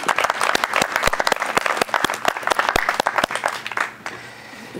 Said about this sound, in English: a little round of applause for all the people who have pictures in the show